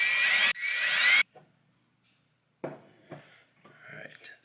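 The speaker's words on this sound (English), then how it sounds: "I'm just going to pre-drill those just a tad" Two short bursts of a power drill pre-drilling small holes in scrap wood, close and loud, then a quiet pause followed by faint handling clatter and brief talk.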